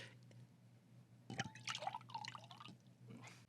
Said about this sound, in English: Hold on, let me pour myself a glass.